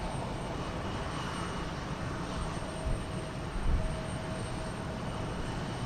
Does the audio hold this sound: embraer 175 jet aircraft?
yes